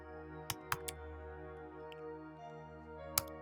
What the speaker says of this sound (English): I'll type config accounting server